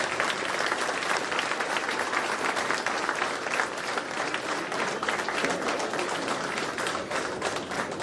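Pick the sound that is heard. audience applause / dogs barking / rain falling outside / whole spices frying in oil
audience applause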